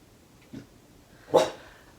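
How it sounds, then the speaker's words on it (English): Pet dog Percy barks indoors, a soft short yip followed by a louder sharp bark, with no talking. "what are you barking about? Percy."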